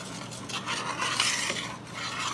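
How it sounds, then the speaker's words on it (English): An ingredient is stirred into a mixture at a family Fourth of July barbecue, a soft continuous scraping and rubbing of a spoon in a bowl, close but quiet, with no talk. "And I'll stir that in."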